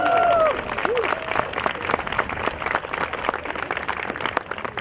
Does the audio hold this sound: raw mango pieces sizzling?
no